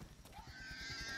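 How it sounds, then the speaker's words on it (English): A dog-like hog creature in the Vortex video game lets out a squealing, whinny-like cry over a low rhythmic game rumble, loud and close, lasting about a second. "That's a dog-looking thing that sounds like a pig."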